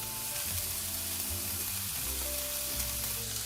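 Bacon and a vegetable filling sizzle steadily in a frying pan, a close, continuous crackle and hiss with no talking.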